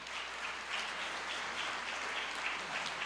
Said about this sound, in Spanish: Nuevamente un aplauso para la experiencia de Medellín.